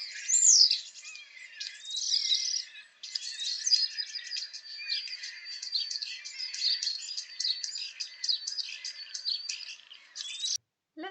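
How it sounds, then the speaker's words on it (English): A starling sings a varied, continuous stream of clicks, rapid buzzes and thin whistles, mid-distance and fairly clear, running for about ten seconds with brief pauses. "Starlings have an eclectic mix of clicks, buzzes and whistles and are well-known imitators."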